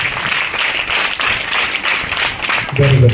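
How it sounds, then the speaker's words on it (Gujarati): An audience claps at a school ceremony, with steady applause throughout and a voice joining near the end. "તાળીઓથી ભાઈ વધારીએ, તાળીઓથી."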